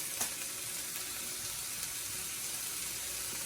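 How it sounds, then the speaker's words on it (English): A steady, broad sizzle of marinara meat sauce frying in a pan, hissing evenly from start to finish at a moderate level, with no talking. "this is sizzling up a little bit"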